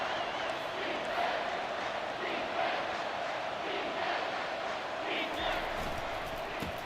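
A football stadium crowd in a Texas vs Utah game roars continuously as the defense faces a red zone stand, a sustained dense wall of noise that rises slightly near the end.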